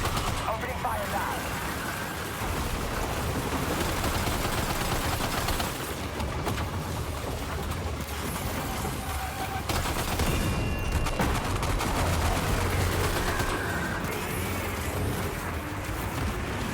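Sustained bursts of gunfire from the video game Death Stranding 2 rattle through a thick, loud mix of battle noise and music, with voices heard along the way.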